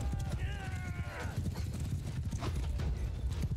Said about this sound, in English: Cavalry's coming through.